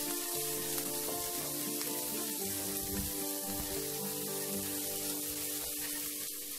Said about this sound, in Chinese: 我们用回煎虾那个镬，爆一爆个姜、红葱头和蒜头